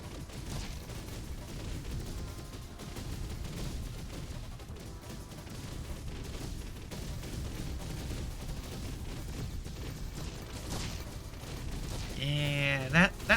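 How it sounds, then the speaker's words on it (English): Laser cannon fire in a wave-based video game, a dense, continuous rapid barrage of zapping blasts and booms that runs steadily throughout, with a brief burst of other game effects near the end. "Yeah, that laser cannon is pretty powerful."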